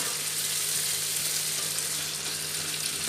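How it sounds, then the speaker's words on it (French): Salted fish and cabbage sizzle steadily in a pan as they are stirred, a dense, even hiss of frying oil, close and unbroken, with no voices. "je vais mettre mon poisson. Ok. Je mélange bien."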